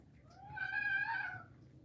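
A rescued feral cat gives a single drawn-out meow, clear and fairly close over a low background hum, with no talking.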